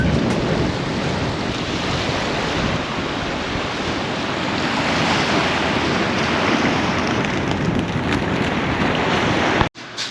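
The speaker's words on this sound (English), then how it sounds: "now we are at the beach" Surf rolls onto a beach at Trapani in Sicily, a steady, dense wash of breaking waves mixed with wind buffeting the microphone, ending in a sudden handling thump.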